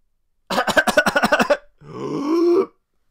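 A voice imitates a whooping cough: a rapid burst of about ten short harsh coughs, then a long drawn-in whooping breath.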